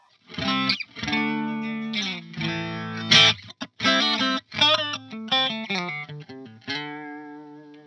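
Electric guitar with coil-split bridge pickup runs through a Pogolab CE-2 clone chorus pedal with its rate turned all the way down, playing a few strummed chords and single-note phrases alone, mid-volume, with a slightly warbly, thickened tone.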